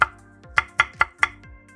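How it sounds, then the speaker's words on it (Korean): A knife slices one red chili pepper diagonally on a cutting board, giving five crisp, evenly spaced chops, close and fairly quiet. "홍고추 1개를 어슷 썰어줍니다."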